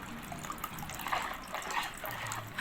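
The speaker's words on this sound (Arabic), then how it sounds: "وهنروح نازلين بنص كوبايه من الخل" Vinegar is poured into sugar and water for pickled red cabbage, a faint, close liquid trickle and splash that runs steadily for a couple of seconds.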